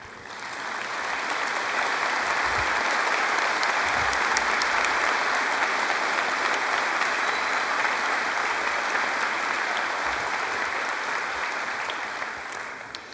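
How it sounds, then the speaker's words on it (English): A large graduation audience at Chaska High School fills the hall with steady, dense applause lasting over ten seconds, swelling in and tapering off at the end. "please stand and face the audience for a round of applause"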